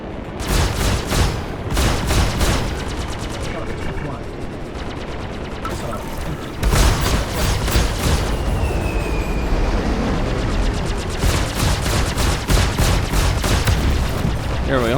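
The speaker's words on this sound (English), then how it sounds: "Here we go, missile hit after it was damaged." Dense, loud space combat in Star Citizen: repeated rapid weapon bursts and rumbling impacts as a missile strikes a damaged ship, with a brief lull midway before the roaring barrage resumes.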